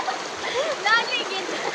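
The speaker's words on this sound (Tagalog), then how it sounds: "O, balik pag langoy ni Wat." People swimming and splashing in a cold spring, with watery splashes and flowing-water noise under cheerful voices and shouts close by.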